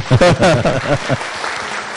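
Audience clapping at a Thai lecture on natural energy as a man is called up onstage, brief scattered applause mixed with a voice talking over it close by.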